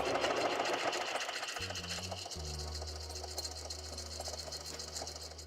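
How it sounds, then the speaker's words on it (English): A sewing machine stitches steadily around the edge of a handmade junk journal, giving a continuous close mechanical whir with a rapid needle rhythm that shifts slightly in pitch partway through. "I try to sew straight, but I'm not very straight."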